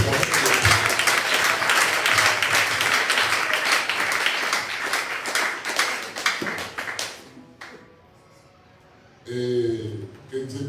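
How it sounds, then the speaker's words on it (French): A church congregation claps in dense, rhythmic applause for several seconds, the clapping thins out and stops into near quiet, and then a voice starts speaking. "Applaudissez-moi."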